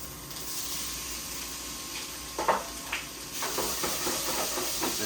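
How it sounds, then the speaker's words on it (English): Shrimp sizzle in a pan of crispy chorizo oil, a steady close hiss of frying with a few sharper crackles and spatters partway through. "Now that we have the chorizo nice and crispy,"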